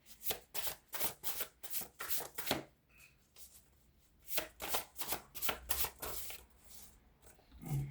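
Rapid riffling bursts of a deck of cards being shuffled up close, two flurries separated by a short quiet pause, fairly soft.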